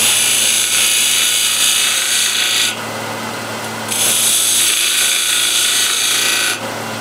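Skew chisel cutting a slight taper at the top of a wooden coffee or tea container spinning on a wood lathe: a steady, close, loud rasping hiss, pausing briefly partway through and then resuming, with no talk.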